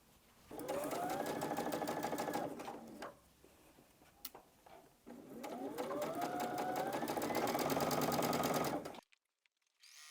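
A sewing machine stitching quilt block pieces for a Double Irish Chain quilt runs in two steady whirring bursts, close and clear, with a short pause between them and a quiet stop at the end.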